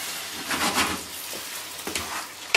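Food stirred around a hot pan on a home stove, giving soft scraping strokes over a low sizzle, with a couple of louder bursts and a sharp clatter at the very end.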